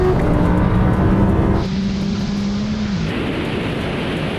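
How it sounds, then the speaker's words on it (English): A 1900bhp Nissan GT-R launches hard with wheelspin, its engine roaring loud and close with a steady high drone that drops in pitch and steadies partway through, no voices heard. "I'm literally spinning on wheels."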